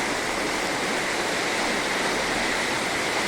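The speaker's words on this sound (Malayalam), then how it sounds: "എന്തൊരു മഴയാണിത്." Heavy rain pours down in a dense, unbroken hiss that stays loud and steady throughout, with no voices over it.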